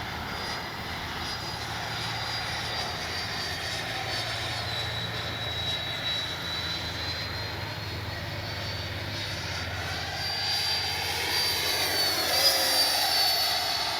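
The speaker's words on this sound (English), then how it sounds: "Love that KM model afterburner inside there." Freewing 90mm F-22 RC jet with a KM afterburner flying at an airfield, a steady loud turbine roar and whine that swells and grows nearer toward the end, with no talk.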